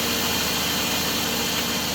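A car engine idles steadily, a loud, close, even rumble with a continuous hiss and no talking.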